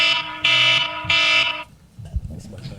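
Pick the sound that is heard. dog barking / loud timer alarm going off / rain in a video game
loud timer alarm going off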